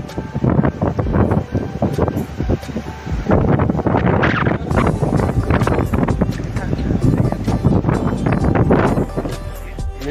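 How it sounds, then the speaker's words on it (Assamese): Strong wind blows at the seashore in Kanyakumari, roaring and buffeting loudly against the microphone in continuous gusts, mixed with a person talking throughout. "কিমান ধুনীয়া বতাহ মাৰি আছে আৰু এইফালে পূৰা সাগৰ"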